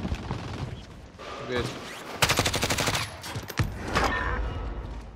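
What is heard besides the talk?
gunfire in the video game Call of Duty Warzone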